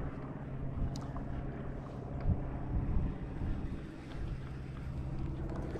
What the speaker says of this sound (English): I'm hiding in the mangroves today because the wind's blowing really hard.